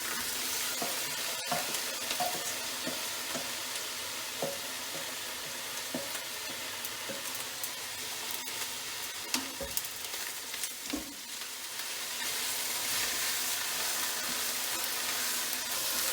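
Partly frozen pho ingredients, washed before freezing, sautéing and sizzling in a pan, a steady close frying hiss with scattered stirring clicks and scrapes throughout.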